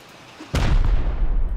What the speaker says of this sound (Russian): Может, я попадаю в самый носик с копья, и она поэтому взрывается?